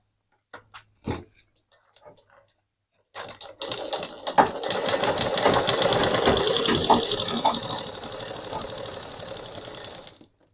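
A sewing machine stitches pieces of a frill pillow cover together: a few short clicks and taps, then a steady fast mechanical whir of running stitches for several seconds that slows near the end, close and fairly quiet.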